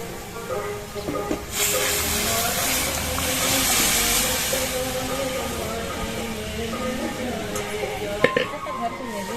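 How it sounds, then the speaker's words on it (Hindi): Steady, broad sizzling hiss of spices frying in hot oil for a dal tempering, continuous and fairly loud, with a few faint clinks near the end. "तो अब दाल में बढ़िया तड़का लग चुके हैं।"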